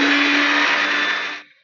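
A blender whirs steadily at high speed, mixing eggs with sugar and salt as the base for homemade mayonnaise, loud and continuous for over a second before cutting off abruptly.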